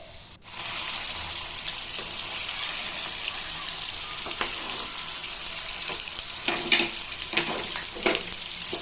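Paneer pieces frying in about three spoons of oil in a kadai, a continuous bright sizzle with several scraping stirs and clinks toward the end, no voices.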